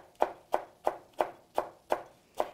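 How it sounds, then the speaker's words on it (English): Knife slicing stacked, rolled leafy greens into thin chiffonade strips, eight crisp, evenly spaced cuts against a board, close and clear with no talking. "So I'm just gonna stack my leaves, roll them slightly to make them easier to hold on to, and just cut thin strips"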